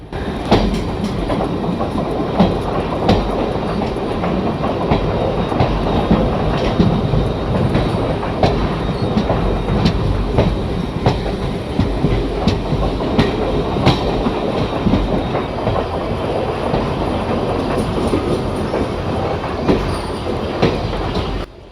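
Train running on rails in Train Simulator (Railworks), the Kottayam-Nilambur Express, with continuous close rumble, wheel clatter and faint squeal on a curve, heard steadily without talk.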